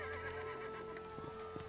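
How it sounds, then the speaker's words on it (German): Horses neigh and whinny at the start of an outdoor horse race, with hoof clops mixed in over a steady ambient background and a low hum, the calls rising in brief bursts throughout. "Und die Pferde mit ihren Reitern galoppieren los."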